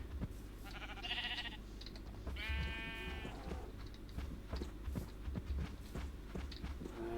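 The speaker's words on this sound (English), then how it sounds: "I might take the sheep as well." Sheep in the Minecraft video game bleat twice in quick succession, short wavering calls over a soft background of footsteps and game ambience, fairly faint, with no speech.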